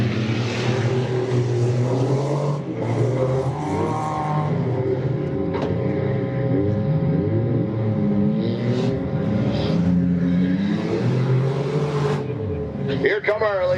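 Demolition derby cars at a Michigan derby event drive around the track with continuous engine roar and shifting revs, while an announcer talks over the noise throughout.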